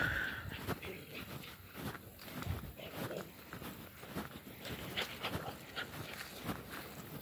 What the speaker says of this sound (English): Doggies running.